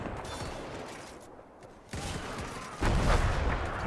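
Gunfire and grenade blasts in the video game Mount & Blade, in a Spanish Civil War battle at a castle: loud, dense battle noise with a sharper burst near the middle and a heavier, sustained roar toward the end.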